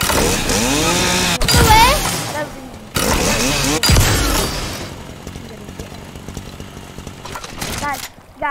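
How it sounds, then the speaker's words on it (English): A chainsaw revs and buzzes in a video game, loud and continuous with bursts of other game noise and engine-like roar, then tapering to a lower drone. "I'm just going to use the chainsaw."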